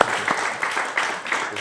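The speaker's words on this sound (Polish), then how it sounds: "Jeśli mogę was prosić o brawa dla naszego gościa," A studio audience claps for a guest at a live talk event, a steady broadband patter of many hands lasting throughout while a voice talks over it.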